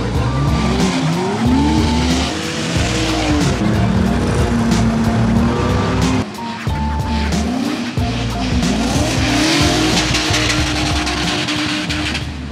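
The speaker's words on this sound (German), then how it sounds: "Wir sind heute am Hockenheimring und hier wird heute gedriftet." Drift cars at the Hockenheimring rev hard and squeal their tires in repeated rising and falling slides, loud and close, with engine roar and skidding continuing almost without pause.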